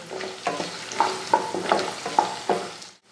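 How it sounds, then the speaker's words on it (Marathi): Potatoes and peanuts sauté in oil for a fasting khichdi, with a steady soft sizzle broken by about six sharp spoon scrapes against the pan at a regular pace. The sound stays close and ends abruptly. "आता यात मी हे शेंगाणे घालते आणि परत एकदा परतून घेते"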